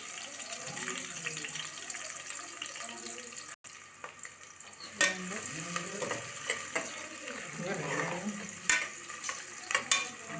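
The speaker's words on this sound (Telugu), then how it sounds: "ఉల్లిగడ్డలు వేస్తున్నా చూడండి ఉల్లిగడ్డలు వేస్తున్నా మటన్లోకి" Onions tossed into mutton frying in a home pan give a steady close sizzle, broken by scraping stirs and clinks of a utensil against the pan, with no talking.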